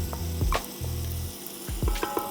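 Butter and minced garlic sizzling in a pan while Tuscan soup is being made: a steady close frying hiss, with a few clanks and stirring scrapes layered on top and no voices.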